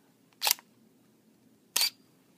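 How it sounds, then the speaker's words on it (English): Two separate shutter clacks from a DSLR still camera on a slow exposure, the first opening burst about a second ahead of the closing one, both crisp and close in a quiet room. "Now I'm going to fire a photo, and I want you to listen carefully to this photo."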